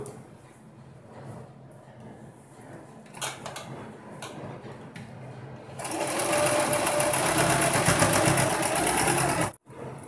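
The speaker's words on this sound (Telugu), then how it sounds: "ఈ పక్క నుంచి మొత్తం ఒక పాయింట్ దూరంలో స్టిచ్ చేస్తూ వచ్చేస్తాను" Sewing machine stitching a designer blouse, at first quiet with faint handling clicks and rustles, then a loud, fast, steady mechanical whirr of the needle running from about six seconds, briefly cutting out near the end before resuming.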